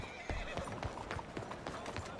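A horse in Red Dead Redemption II trots up with quick, uneven clip-clop hoofbeats close by, and a whinny rises over the footsteps. Faint voices sit low in the background.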